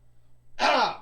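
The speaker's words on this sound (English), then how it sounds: "sorry for clearing my throat many times" One short, rough throat clearing comes close to the mic in a quiet room, a brief raspy burst with no speech around it.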